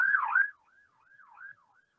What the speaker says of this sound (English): Whenever a siren goes by and I'm saying something, it's important.